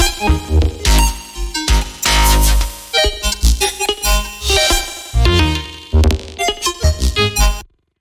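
A dense, shimmering electronic texture of layered tones and pulsing fragments, swelling and stuttering in bursts, loud and continuous until it cuts off near the end.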